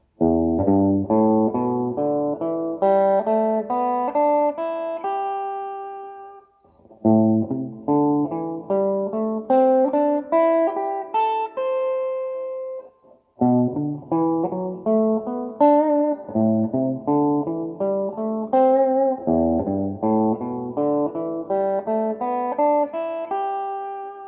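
Plucked guitar notes run a pentatonic scale in quick rising and falling patterns, in four separate passages with short breaks between them, played clearly and alone.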